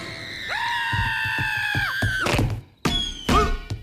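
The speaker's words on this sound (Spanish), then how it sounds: "seres extraños ingresan a las habitaciones de todos los niños del mundo para asustarlos y arrancarles un grito desgarrador" A child's long, high, sustained scream, loud and close, breaking off into thumps and a second shorter cry.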